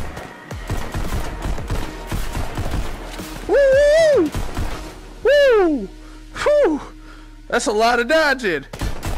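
Rapid gunshots fire in the VR video game Pistol Whip, dense early bursts of sharp cracks followed by loud excited whoops and brief talk from a player.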